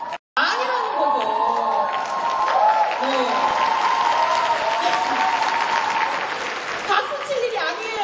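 Applause from an audience at a talk on leadership, a steady wash of clapping heard alone for about eight seconds after a brief pause, with some crowd murmur mixed in.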